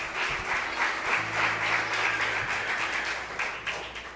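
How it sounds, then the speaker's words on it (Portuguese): Church congregation applauding the Lord during a sermon service, a dense steady wash of many hands clapping throughout, fairly close and even in loudness with no voices over it. "dê um aplauso ao Senhor"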